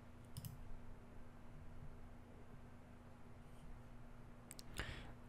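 Computer mouse clicks near a quiet desk setup, a couple of sharp, faint clicks at the start and again near the end over a low steady hum.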